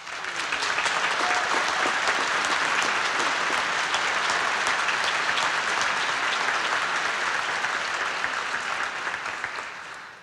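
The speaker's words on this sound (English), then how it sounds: "you are allowed to applaud for this part" Sustained applause from a debate audience for the Carmel Republican mayoral candidates, a thick continuous wash of clapping that holds steady for about ten seconds and then fades slightly.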